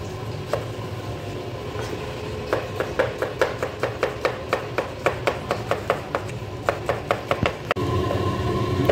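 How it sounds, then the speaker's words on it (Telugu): A knife chops vegetables for a salad on a cutting board in a steady run of about twenty sharp, evenly spaced knocks, close and fairly loud over a constant low background hum, ending with a louder thud. "ఇలా అయితే కట్ చేయాలి. సలాతా కోసం."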